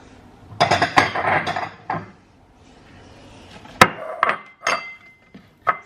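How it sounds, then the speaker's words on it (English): Ceramic bowls and dishes clatter and clink as one is grabbed from a stack in a home kitchen during sushi making: several sharp, close knocks in two clusters separated by a short quiet gap. "I'm gonna grab another bowl."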